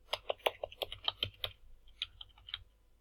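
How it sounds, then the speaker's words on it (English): Quick bursts of typing on a computer keyboard with a sticky space bar: crisp, close key clicks in an irregular run, pausing briefly before a few more keystrokes, quiet and free of speech. "I'm going to just type here."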